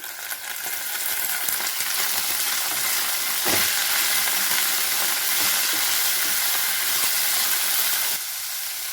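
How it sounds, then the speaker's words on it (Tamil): Banana flower and green chillies sauté in a pan for a chutney, giving a loud, continuous sizzle and hiss with faint stirring scrapes, dropping slightly at the very end. "எல்லாத்தையும் நல்லா வணக்கிக்கோங்க ரெண்டு பச்சை மிளகாய் வாழைப்பூவில் சேர்த்துக்கலாம்"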